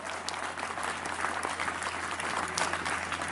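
An audience at a Rajasthani song performance claps steadily throughout, a dense wash of applause from many hands, fairly close and even in loudness.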